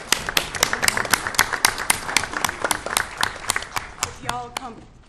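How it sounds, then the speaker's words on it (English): Sharp, close hand claps at a Bristol, Tennessee city council meeting, beating in a quick regular rhythm with scattered clapping from others, then a voice speaks briefly near the end. "And I have to clap."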